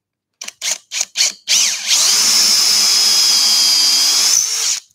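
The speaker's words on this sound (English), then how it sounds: "I'm going to use the holes that we've already drilled as a kind of a drill guide and just take that a little bit further." A power drill deepening dowel holes in wood for a fold-away hook rack: several short trigger bursts, then a long steady high-pitched whine as the bit bores in, close and loud, with no talking.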